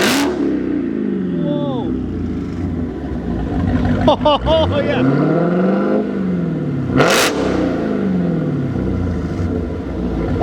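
Dodge Challenger fitted with a MagnaFlow xMOD exhaust, close by, revving in a few sharp bursts that swell and fall off, with an excited voice reacting over the engine noise.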